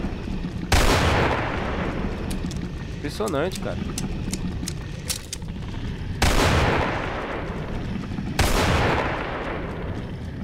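Heavy bazooka blasts boom out in Resident Evil 4, three loud explosive shots spaced several seconds apart, with someone talking between them.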